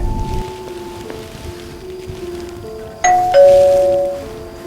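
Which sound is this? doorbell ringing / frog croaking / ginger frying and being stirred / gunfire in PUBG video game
doorbell ringing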